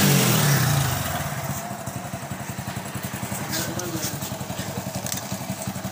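A Hero HF Deluxe motorcycle engine idles after being started with a discharged battery, a rapid, even single-cylinder putter that stays steady and close, with a brief louder rev or starter noise at the very start.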